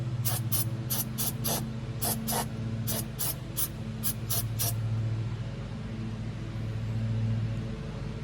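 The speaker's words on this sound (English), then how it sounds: "We're gonna take brake clean and just hit the points in the electric connections." Brake cleaner sprayed in repeated short hissing bursts onto the distributor points and electrical connections during a Holley 4412S carburetor tune-up, close and loud over a steady engine idle hum.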